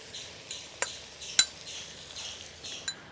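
Crushed ginger-garlic paste goes into a hot pan for chicken pulao and is stirred with a spoon: a few sharp metallic clinks spaced across a soft, steady sizzle, with no talking.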